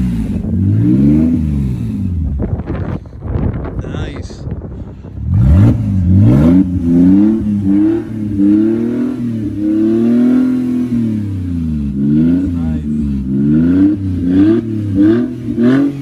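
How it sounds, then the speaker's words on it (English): A straight-piped Mercedes W204 C300 engine barks loudly through repeated revs, then settles into a rough, throbbing idle with wavering pitch, close and alone with no talk. "So I'm gonna start the car up really soon."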